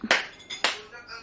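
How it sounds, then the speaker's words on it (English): A few sharp claps ring out in a small indoor family setting, two or three quick separate hits spaced apart, close and fairly crisp. "Everybody clap."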